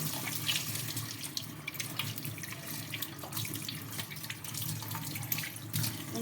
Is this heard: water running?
yes